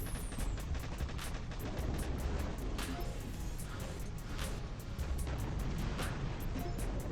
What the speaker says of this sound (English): that boom cannon's doing some work